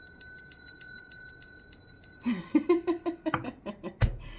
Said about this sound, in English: I've had comments where people like my chimes, but do you like my bell?